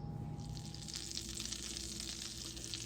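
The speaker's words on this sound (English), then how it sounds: "So I put my butter in the pot, and the pot was very hot" Butter sizzling in a very hot pot before shrimp are added, a steady, close, crackling hiss that continues evenly throughout with no talking.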